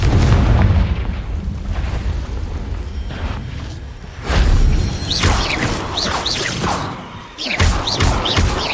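Confringo blasting spells going off in Hogwarts Legacy, loud booming explosions with rumbling low-end bursts, spaced a few seconds apart amid fizzing magical effects and game sounds.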